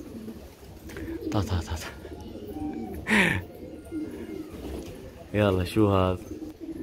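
Young pigeons cooing at their release, with soft coos and brief calls scattered among nearby voices talking in Arabic.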